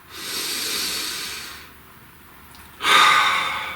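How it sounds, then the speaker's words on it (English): A slow deep breath drawn in as a long airy hiss, a pause, then a sharper, louder exhale, close and alone. "Please take a nice deep breath."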